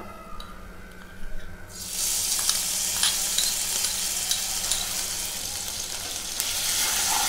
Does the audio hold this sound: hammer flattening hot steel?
no